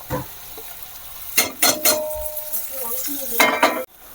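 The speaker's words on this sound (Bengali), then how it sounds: "পেঁয়াজটা একটু লাল লাল করে ভাজা হয়ে যাক" Onions fry in a pan with a soft background sizzle, punctuated by several loud bursts of spatula stirring and scraping against the metal, close and clear.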